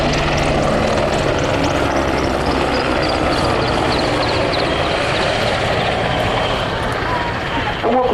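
Loud, steady roar of a Merlin helicopter's engine and rotors powering up for takeoff close by at an air display, a continuous broadband rumble filling the whole stretch with little variation.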